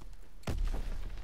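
A single heavy gunshot boom from Call of Duty: WWII lands after a short stretch of steady background noise, then a low rumbling tail lingers afterward.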